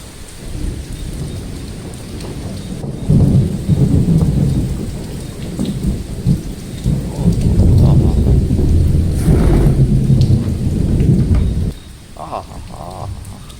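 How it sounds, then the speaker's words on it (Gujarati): Heavy rain pours steadily at night, loud and close, while deep thunder rumbles and cracks roll through it; no voices are heard. "કન્ટિન્યુ વરસાદ વરસે છે વીજળી કડાકા ભડાકા મેઘલી રાત"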